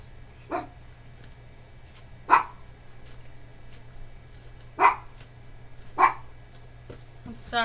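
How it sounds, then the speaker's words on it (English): A dog barks indoors, four sharp, fairly loud single barks spaced a second or more apart over a faint steady hum. "I'm sorry, my dog."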